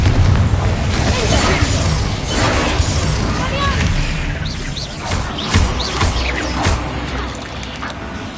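Confringo fire spell blasting repeatedly in the game Hogwarts Legacy, a dense run of booming bursts and crackling impacts with a voice talking over the continuous loud game noise.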